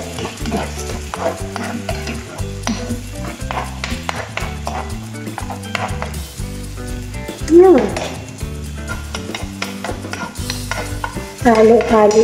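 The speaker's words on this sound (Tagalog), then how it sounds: "So, ilalagay na natin yung itlog natin. Haluin nyo na siya guys." Eggs are stirred in a hot frying pan with tomato, with sizzling grease and repeated scraping and clinking of a utensil against the pan. The sound is close and busy, and a few louder scrapes stand out near the end.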